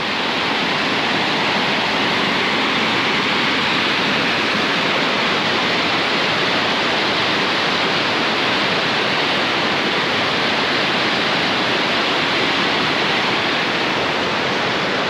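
Waterfall in Nakhon Si Thammarat, Thailand, a loud, steady, unbroken rush of falling water that stays constant throughout with nothing else standing out.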